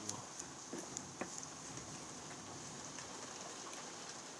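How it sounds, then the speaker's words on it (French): Heavy rain mixed with sleet pours steadily during a violent spring thunderstorm in Carpentras, Vaucluse, a dense hiss with scattered sharp taps of pellets striking a surface close by. "Forte pluie en cours. De fortes pluies. Avec du grésil."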